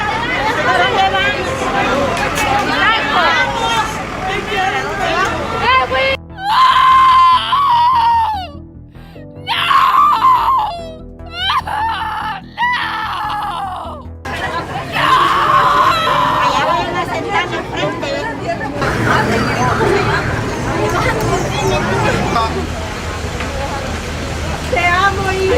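A mother screams hysterically as a bus carries her son away, piercing wails rising through a noisy crowd, with several voices shouting and talking around her.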